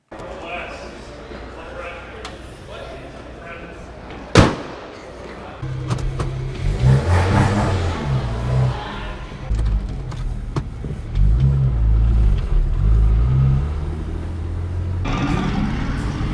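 A drift car on track laps after a blown intercooler boot, its engine droning low and rising in loud revving bursts through the second half, with a sharp bang near the start and road noise throughout.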